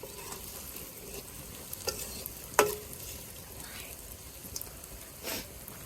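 Dried red chillies and shallots frying in oil for a village-style chicken fry, a soft steady sizzle with a few sharp clinks and scrapes of a spoon against the pan.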